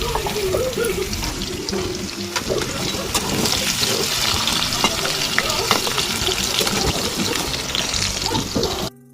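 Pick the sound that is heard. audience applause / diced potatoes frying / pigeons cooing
diced potatoes frying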